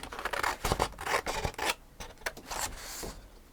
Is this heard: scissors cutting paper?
yes